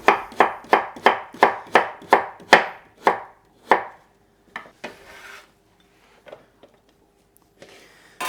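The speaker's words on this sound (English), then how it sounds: "this one I'll just cut smaller, go in my stir fries" A knife chops vegetables smaller for stir fries on a cutting board: about ten quick, evenly spaced, crisp strikes, then a few slower scattered taps and faint rustles, close up with no talk.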